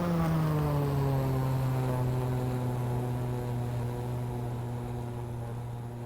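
An Extra 330 aerobatic propeller plane in X-Plane 11 holds a steady, loud engine drone with a strong low harmonic hum. The pitch sinks very slightly as the sound fades a little across about six seconds, with no voices.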